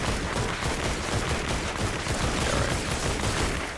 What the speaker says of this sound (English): That's what the explosion is.